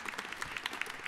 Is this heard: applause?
yes